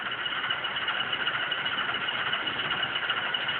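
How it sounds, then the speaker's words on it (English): Diesel prime mover sound from a DCC decoder in an Atlas HO-scale CSX NRE Genset locomotive, a steady idling engine drone with a thin, band-limited tone, continuous and even at moderate level with no talk. "you can actually change the engine sound"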